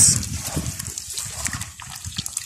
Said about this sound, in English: you squeeze it